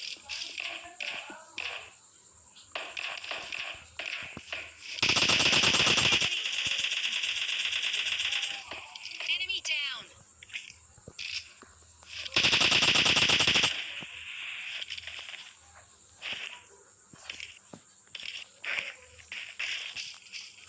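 Bursts of gunfire in the video game PUBG, two long loud automatic volleys among scattered softer single shots and footstep-like taps.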